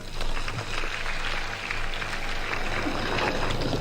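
Dense, sustained applause from a large crowd at an outdoor Kenyan presidential title deed ceremony, a steady broadband wash of many hands clapping at moderate distance for the whole stretch.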